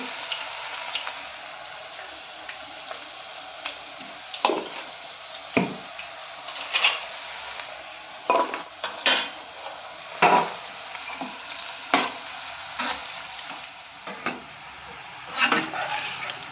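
Okra coated in gram flour and rice flour fries in a pan with a constant hiss, punctuated by regular scraping stirs and knocks every second or so, close up and without talk.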